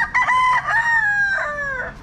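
A backyard rooster crows one long, loud cock-a-doodle-doo close by, with a few short clucks from the flock at its start and low rumbling background noise underneath.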